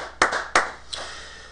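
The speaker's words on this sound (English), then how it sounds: "That, my friends, needs a round of applause." Three sharp hand claps, the first two close together and loud, the third softer, with quiet room tone between them.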